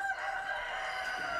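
A rooster crows on an organic free-range egg farm in the countryside, a loud, close, drawn-out cock-a-doodle-doo heard clearly on its own.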